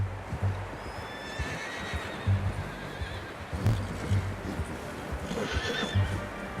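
Horse in Red Dead Redemption 2 whinnies in drawn-out neighs alongside steady clip-clop hooves, close and clear over a low ambient game backdrop, with no talking.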